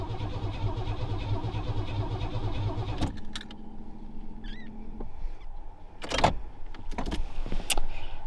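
A Pontiac Fiero GT engine that has sat unused for fifteen years cranks without catching, a steady rhythmic starter churn for about three seconds, then a pause with faint clicks and rattles and a few short bursts of cranking.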